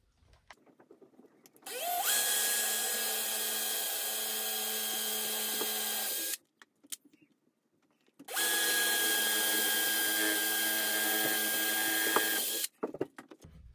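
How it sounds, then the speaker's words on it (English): An electric drill whirs at high speed in two sustained bursts of several seconds each, drilling holes for cabinet handles, separated by a short pause, close and steady. "Same thing, high speed on your drill, but gentle pressure."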